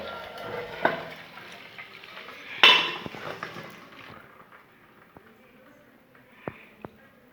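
A cooking pot is handled on a stovetop while cooked rice is drained: a sharp metallic clank near the start, then softer knocks, scrapes and a few isolated taps, close and fairly quiet with no voices.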